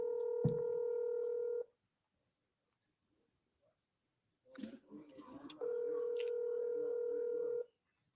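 Telephone keypad and line tones: a long steady electronic tone, a pause, a short flurry of quieter tone blips, then a second sustained tone, with no talking.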